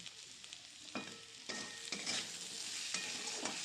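Chili powder stirred into a fish curry with green tomatoes frying in a pan, a close steady sizzle broken by several scraping spatula strokes at irregular intervals.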